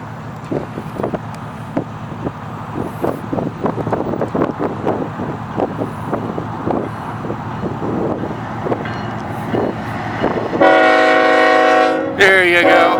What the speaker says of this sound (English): Look at that big honking thing, man. That's a choo-choo.